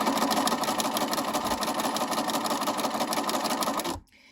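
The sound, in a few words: sewing machine stitching down the center of twill tape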